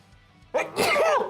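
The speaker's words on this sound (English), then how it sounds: "I sneezed!" One loud, close sneeze: a sharp intake followed by an explosive burst, alone against a quiet background.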